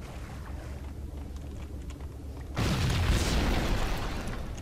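Explosion in the Max Payne video game: a low, steady rumble of game ambience gives way to a sudden loud boom that swells into a broad roaring blast and lingers through the final seconds.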